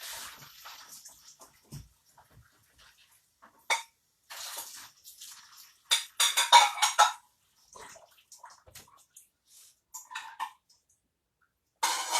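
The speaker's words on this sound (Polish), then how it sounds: "No ja zmywam." Running water splashes intermittently while dishes clink and clatter, with scattered bursts of scrubbing and rinsing at close range.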